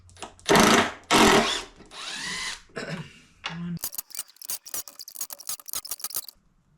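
A power drill spins out screws from a kids' wooden go-kart, starting with a few long loud whirring bursts and then breaking into a rapid run of short clicking, ratcheting pulses, close up with no talk.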